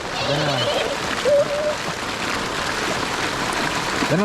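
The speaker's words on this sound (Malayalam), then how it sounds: "എടാ മഞ്ഞല്ലടാ അത് അത് മഴയാടാ നല്ല മഴയാണ്" Heavy rain pours down steadily outdoors in Olipuram, a broad continuous hiss close by, with brief voices and a short whistle-like tone breaking through in the first couple of seconds.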